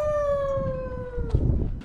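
A dog gives one long, drawn-out howl that slowly falls in pitch, followed by rougher noise, heard outdoors on a freezing winter morning at about -17 degrees in the Spiti Valley.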